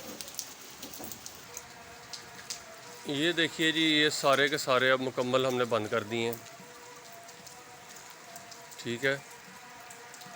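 Rain falls steadily on a surface, a constant soft patter heard throughout, partly under someone talking in the middle of the stretch.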